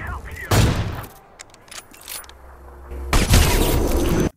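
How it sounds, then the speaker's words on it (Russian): AWP sniper rifle firing in Counter-Strike, two loud booming shots about three seconds apart, each with a long sharp tail, and quieter mechanical clicks between them. "в КС-ке, звук АВП."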